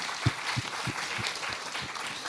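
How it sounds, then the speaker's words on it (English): An audience at a research student conference claps for the panelists, a brief burst of applause with a few distinct, sharper claps standing out near the front. "Let's give them the applause."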